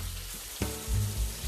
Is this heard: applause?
no